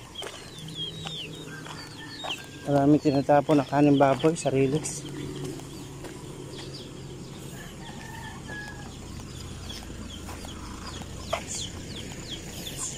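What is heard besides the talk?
chickens clucking beside railway tracks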